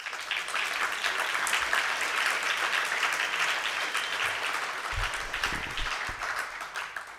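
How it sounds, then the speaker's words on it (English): A conference audience applauds steadily and loudly for the event sponsors, a dense wash of many hands clapping that carries at full strength for the whole stretch with no talk over it. "A round of applause for them."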